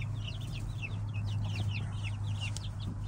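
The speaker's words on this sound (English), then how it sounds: "Oh, 10 chickies." A group of ten young chicks, including a Silkie, cheeps rapidly and continuously in high, thin chirps over a steady low hum.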